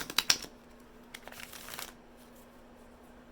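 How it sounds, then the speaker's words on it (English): Tarot cards being shuffled by hand, a quick burst of crisp riffling snaps at the start followed by softer sliding and faint card rustle, close and quiet with no talking. "I need to shuffle the cards again."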